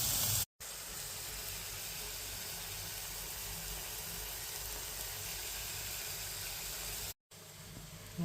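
Onions sizzle in a pan with caramel pork, giving a steady, soft broadband hiss that carries on evenly for several seconds with no voices.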